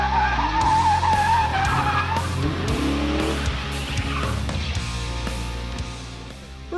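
A twin-turbo Gen III Hemi SRT8 Dodge Challenger slides on a track with a skid frame lifting its tires, the tires squealing loudly and the engine droning and revving close by.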